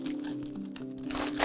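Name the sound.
crinkling colored cellophane vinyl sheet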